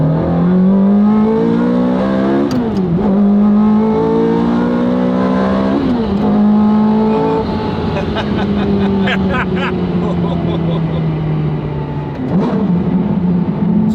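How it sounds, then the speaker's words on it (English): Ferrari 430 Scuderia with an S-line exhaust and retained catalytic converters, its engine revving loudly and close in repeated rising and falling sweeps, with an exotic, high-pitched tone throughout. "And that exhaust, that S-line exhaust, I still have the cats back there, but it just sounds, it sounds a lot more exotic."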